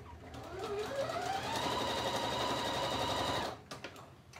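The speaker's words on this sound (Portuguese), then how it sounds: "Eu vou voltar aqui para a minha trilobal. Vou costurar também para vocês verem." A domestic sewing machine stitches with trilobal embroidery thread, giving a close, steady whir that rises in pitch as it speeds up. It runs for about three seconds, then stops with a few soft mechanical clicks.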